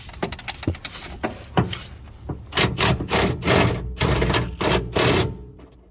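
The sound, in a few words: removing top nuts of Mitsubishi Evolution X rear coilover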